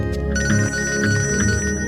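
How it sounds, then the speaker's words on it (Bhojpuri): A phone's ringtone plays for an incoming call in a Bhojpuri family drama, a loud, repeating electronic melody with no talking over it. "समधे जी के फोन आवता"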